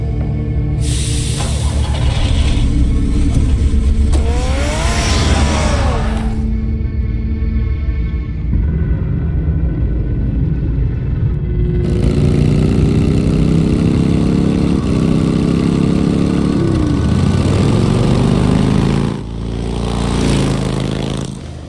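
A car engine in the video game Telltale's Batman revs and drives for about twenty seconds, loud and continuous, with its pitch rising and falling as the engine works through surges and gear changes.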